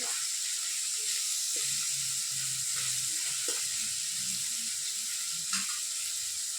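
Fish frying in a pan gives a steady, close sizzle and hiss throughout, with faint stirring clicks and low background sounds from a home kitchen where vegetables also cook.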